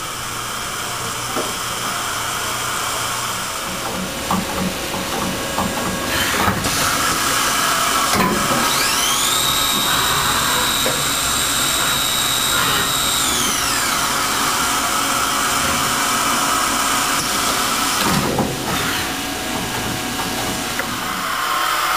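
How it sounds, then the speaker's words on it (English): A Cincinnati Milacron Arrow 750 4.5-axis vertical machining center dry cycles through tool changes, a loud steady mechanical whir and hiss with whining slides and occasional clunks of the changer, and no one speaking. "We will go ahead and dry cycle the machine, do some tool changes, and show the general features and equipment of the machine."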